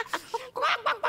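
Chickens cluck as someone feeds them grain by hand, giving several short, sharp clucks in quick uneven bursts from close by.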